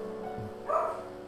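A dog gives a single short, faint bark from a distance over a low background hum.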